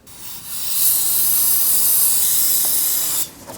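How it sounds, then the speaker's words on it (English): Solvent sprays from an aerosol can onto the engine of a Nissan Murano 3.5L V6 during an oil change, one continuous close, loud hiss that starts, holds steady for nearly three seconds, then cuts off. "And then we'll use our spray solvent."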